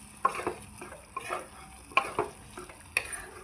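Cooking water is stirred into a lentil and potato mixture in a home kitchen pan while making a tiffin meal, giving quiet, intermittent scraping and clinking strokes in about four short bursts, with no talking.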